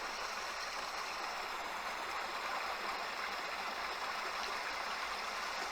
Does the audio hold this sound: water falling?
yes